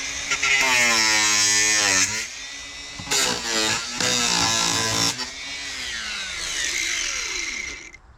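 An electric power tool cuts off overly long protruding screws on a wooden raised garden bed, its motor whining up and down in several close, loud bursts before winding down.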